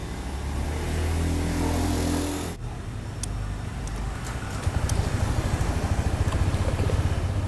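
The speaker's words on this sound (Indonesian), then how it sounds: "Kita coba nyalakan kendaraannya" A Honda PCX 160 CBS 2021 scooter with an idling stop system starts up after a steady background hum cuts off, then its small engine settles into a close, even, rhythmic idle putter.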